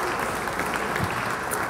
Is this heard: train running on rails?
no